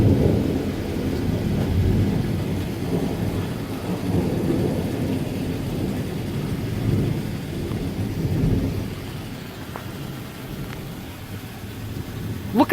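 Severe thunderstorm in Newburg, Pennsylvania: steady heavy rain roars throughout with deep, rolling thunder rumbles swelling and fading, and a few sharper crackles near the end, no talk.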